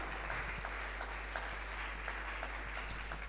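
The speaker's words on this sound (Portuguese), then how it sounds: "Uma salva de palmas." Audience applause at a Portuguese-language church faith teaching session: steady, dense clapping with continuous texture throughout, moderately loud and fairly even, with a constant low hum beneath and no clear voice over it.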